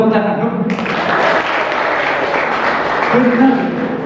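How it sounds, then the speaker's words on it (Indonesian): A classroom of students claps together, a burst of mixed applause following a short spoken prompt, with voices audible at the start and end. "Tepuk tangan dulu."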